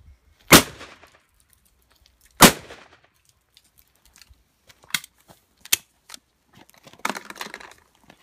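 A tree branch being chopped through: two loud, sharp whacks a couple of seconds apart, then several lighter, quicker cracks and crunches close to the microphone.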